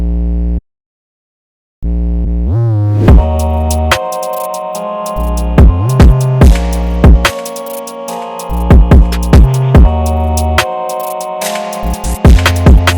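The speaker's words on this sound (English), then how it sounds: "we're adding that to the mixer and we're putting on pretty fast distortion" A heavily distorted deep 808 sub bass pattern in a beat plays loud and upfront, with a rhythmic repeating groove and sharp percussive hits, after a brief gap of silence.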